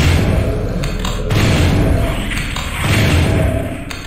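Doom 64 gameplay gunfire comes as a couple of heavy booming shots with thudding impacts and echoing tails, loud and spaced apart, without talk.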